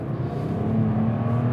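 A 2011 BMW 1M accelerates at full throttle with overboost engaged, its turbocharged engine droning loud and steady from close inside the car.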